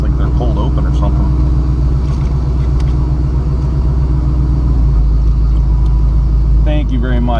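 A 2014 Shelby GT500 idles with a deep, steady rumble close by, loud and constant, while voices talk over it.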